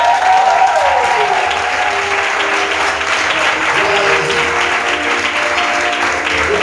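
A church congregation applauds and acclaims the Lord, the sustained clapping of a large crowd filling the room with a few voices mixed in, steady and loud from start to finish.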